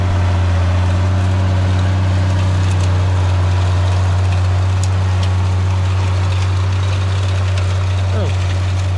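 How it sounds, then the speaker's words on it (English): A tractor pulls a Pottinger mower through a meadow at silage time, producing a loud, steady low engine drone that holds constant throughout, close by and unbroken. "Father Phil had his turn with the mower. So that's what's happening now."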